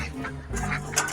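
Ducks quacking nearby, a couple of short nasal calls in quick succession.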